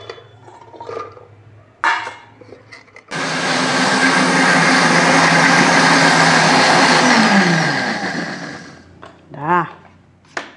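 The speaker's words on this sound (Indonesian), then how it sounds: "Nah, ini untuk bumbunya. Saya blender." An electric blender grinds a chili spice paste for a home-cooked dish, a loud steady whirring roar running about six seconds and easing slightly near the end, with brief talk before and after.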